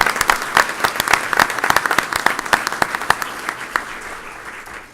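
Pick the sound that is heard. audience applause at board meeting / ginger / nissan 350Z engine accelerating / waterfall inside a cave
audience applause at board meeting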